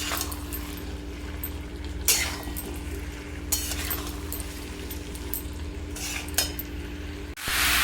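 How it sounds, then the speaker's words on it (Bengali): Jackfruit pieces frying in a pan with spices, a steady sizzle under repeated metal clinks and scrapes of stirring, fairly close and moderately loud, with a louder burst of frying near the end. "মশলাটা ভালো করে কাঁঠালের সাথেও মিলিয়ে নিব আর দিয়ে কিছুক্ষণ ভাজবো।"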